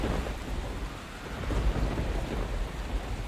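Thunderstorm with heavy rain, a dense continuous roar of rain on surfaces with deep low thunder rumbling underneath, loud and close throughout.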